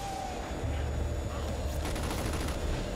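Gunfire from a shotgun in Crackdown 2 rattles in a dense, rapid burst over steady low game rumble and faint background noise, fairly quiet and continuous with no one talking.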